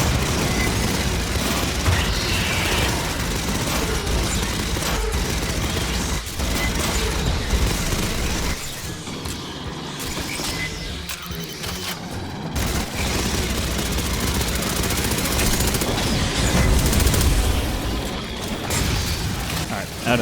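Aliens: Fireteam Elite combat: sustained automatic gunfire mixed with mechanical clatter and booming impacts, loud and busy throughout, dipping briefly midway before swelling again, with a voice talking over parts of it.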